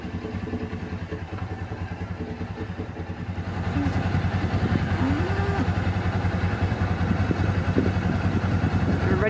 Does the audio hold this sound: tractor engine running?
yes